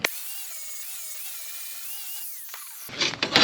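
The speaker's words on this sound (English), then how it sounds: "this one is a 40 grit flap disc. It's not perfect. I don't want to grind too much off." An angle grinder with a 40 grit flap disc on 316 stainless steel whines steadily as it spins, then breaks into a loud, harsh grinding burst near the end. No one speaks.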